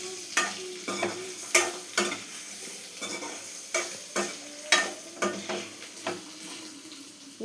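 Pre-boiled potato pieces frying in a pan with turmeric and chili powder, a spoon scraping and stirring in repeated sharp strokes over a steady close sizzle.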